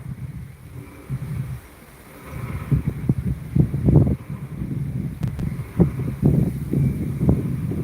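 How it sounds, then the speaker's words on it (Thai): Cold wind blows across an open riverside site at the fifth Thai–Lao Friendship Bridge in Bueng Kan, gusting and buffeting the microphone in uneven low rumbles that swell and fade, with no talk. "โอ้ลมพัดแหง"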